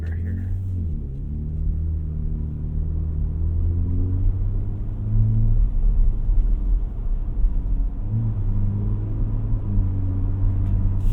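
A 2025 Ford F-150 Raptor pickup with its exhaust set to Baja mode and steering and dampers in sport, giving a deep, steady engine rumble from inside the cab that swells louder twice while driving.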